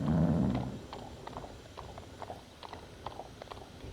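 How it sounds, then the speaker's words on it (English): Steady clip-clop of a carriage horse's hooves on a hard surface in the video game Hand of Fate 2, a brisk even rhythm of moderate loudness, with a low rumbling burst at the start. "The horse that's pulling this carriage."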